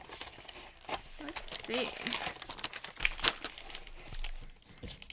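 Wrapping paper crinkles and tears in bursts as a heavily taped Christmas gift box is unwrapped close by, with someone talking briefly over the rustling.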